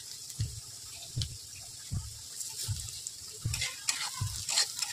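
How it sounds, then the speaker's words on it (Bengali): Onion frying with panch phoron (Bengali five-spice) in a pan, steady soft sizzle with regular scraping stir strokes about every three-quarters of a second, close and moderately loud, no voices. "5 ফোড়নটা দিয়ে কিছুক্ষণ ভেজে নেব পেঁয়াজটা আরও একবার।"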